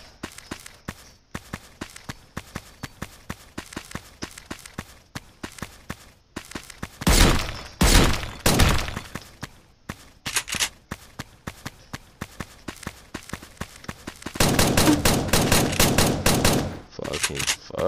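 Video game gunfire: bursts of rapid automatic shots and single cracks, with short pauses between clusters, loud and close, and two long sustained volleys near the middle and end; a voice is faintly audible between shots.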